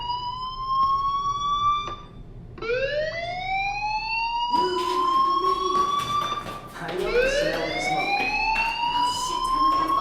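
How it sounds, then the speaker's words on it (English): A fire alarm blares in the video game Life Is Strange, repeated loud rising electronic whoops that overlap and keep going through the whole stretch, heard up close. "Hey, do you hear that fire alarm?"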